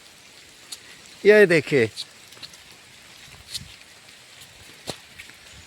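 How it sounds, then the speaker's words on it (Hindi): Light rain falls steadily through a forest at Chitrakoot, making a soft, even hiss with scattered drips, while someone speaks briefly near the start. "अभी बारिश हो रही है दर्शकों।"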